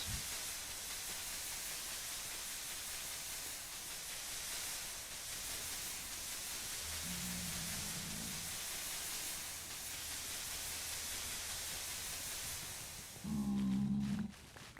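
In Minecraft, blocks being placed give a steady faint sizzling hiss throughout, with a couple of brief low tonal blips breaking in near the middle and end.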